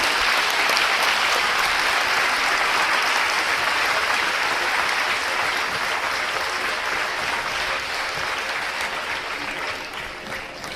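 An audience applauds steadily after a speech, with dense sustained clapping filling the whole stretch and tapering slightly toward the end.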